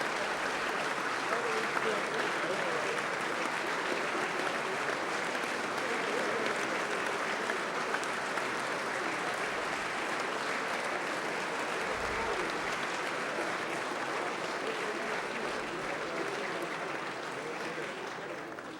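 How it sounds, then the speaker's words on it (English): A large gathering at the West Virginia State of the State address applauds continuously as Governor Earl Ray Tomblin walks to the podium, a steady, broad wash of clapping at moderate level that thins slightly near the end. "you're hearing the applause of the gathering as the governor makes his way to the podium."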